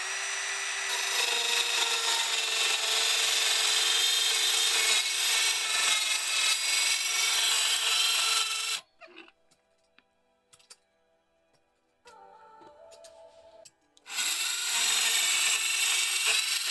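Wooden concrete form piece being trimmed with a saw, loud steady cutting strokes for about eight seconds, then a pause with faint knocks, then the cutting resumes close up.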